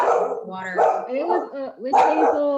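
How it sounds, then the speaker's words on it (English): A dog barks repeatedly nearby in an indoor room, several sharp barks in quick succession overlapping someone speaking. "Sorry for my dog."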